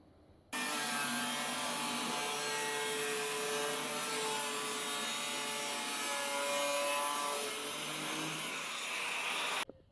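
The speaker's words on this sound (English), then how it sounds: "I'm now going to cut a couple of strips of steel which are the same height as the can" Strips of steel sheet are cut in one continuous, steady rasping grind that starts abruptly and holds at an even, fairly loud level for nearly ten seconds, then stops. Nobody talks.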